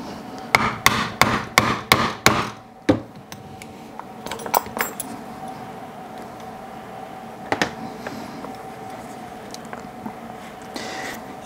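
A hammer strikes a metal stamp into a leather dog collar about eight times in a quick, even series, sharp and close, followed by a few scattered light taps and handling noises.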